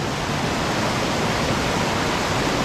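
A flowing trout stream in the Great Smoky Mountains rushes close and loud, a dense, steady broadband roar of moving water without pauses or voices.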